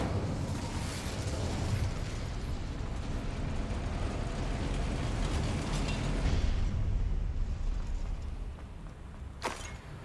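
A roaring, crackling burst of fire from the Incendio spell in the Hogwarts Legacy video game, a loud sustained rush that holds for several seconds before easing, with a short sharp crack near the end.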